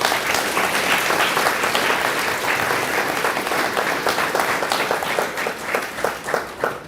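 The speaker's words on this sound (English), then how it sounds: "join me in giving them a round of applause" An audience at a high school academy graduation ceremony gives a loud round of applause, thick crowd clapping throughout that thins into more distinct individual claps near the end.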